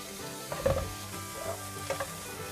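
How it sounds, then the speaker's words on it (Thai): Onion stir-frying in butter in a pan, a soft steady sizzle with a few light scraping and clinking stirs of the utensil against the pan, close and fairly quiet. "ให้เราผัดหอมหัวใหญ่ให้ส่งกลิ่นหอมนะคะ"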